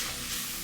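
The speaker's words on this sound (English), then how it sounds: "See my pot? Mixing everything nice and mixing." Shrimp and other ingredients being stirred in a pot on the stove, a soft steady sizzle with faint scraping, quiet and continuous with no voices.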